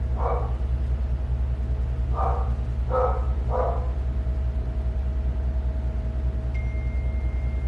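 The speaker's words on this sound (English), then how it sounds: "Dog's barking, so someone's here." A dog barks four times from a distance, one bark then a quick cluster of three, over a constant low engine-like hum.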